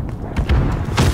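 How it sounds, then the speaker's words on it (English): A rocket-propelled grenade blast hits in a first-person shooter game match: heavy, booming thuds roll through the clip with a second strong impact near the end, loud and close, with no talk over them. "RPG right in the back."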